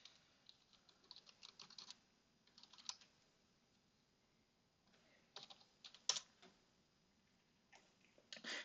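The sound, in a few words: typing a password on a computer keyboard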